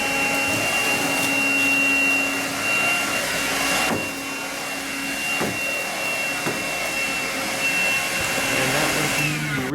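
A Eureka Quick Up 96H cordless stick vacuum, a small 6-volt machine, runs steadily at close range with a constant motor whine, broken by a few short bumps and clicks as it is pushed over the floor.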